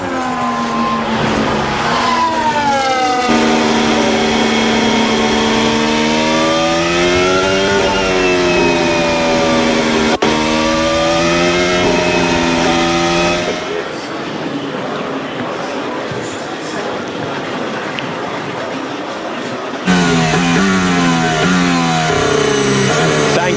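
Formula 1 cars on the formation lap at Spa for the 2025 Belgian sprint race, engines droning and rising steadily in pitch, loud and continuous over crowd ambience, with a brief dip before the roar returns.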